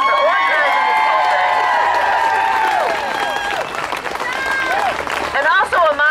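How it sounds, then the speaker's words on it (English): Loud crowd applause and cheering at an outdoor protest rally against Monsanto in Kalamazoo, Michigan, with shouts and whoops rising over dense clapping before it breaks up into scattered cheers. "Can we please give her a big round of applause for organizing this whole thing?"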